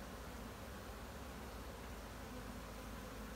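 Honeybees buzz around an opened hive after smoking and frame shaking, a faint, even, continuous hum with no break and no talk.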